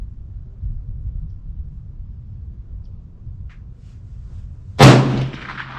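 A single loud .308 Winchester rifle shot from an Aero Precision Solus action with an Outlier barrel cracks near the end after a stretch of quiet low rumble, then trails off in a short echo.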